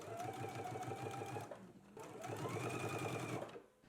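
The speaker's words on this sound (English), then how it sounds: "Let's go ahead and do our understitching now." A sewing machine understitching a pocket facing on a garment runs in two steady bursts with rapid rhythmic needle clatter and a brief pause between them, close and clear.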